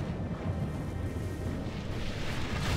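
Battle fire from units in a Lord of the Rings strategy game, a steady rumbling wash of distant explosions and shooting that holds at a moderate level without pause.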